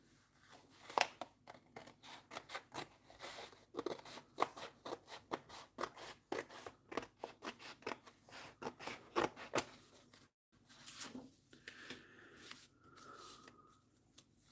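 Cutting along the edge of a book during ring binding: a long run of dense, rapid scraping and snipping strokes, close and fairly loud, pausing briefly near the end before a few softer rubs.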